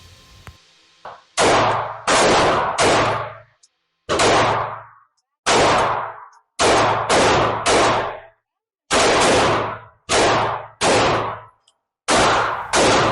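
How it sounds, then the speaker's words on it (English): A SIG Sauer P365 handgun fires a string of loud, sharp shots on a range, mostly in quick doubles and triples, with short pauses between the groups. "So I'm going to go ahead and present and shoot."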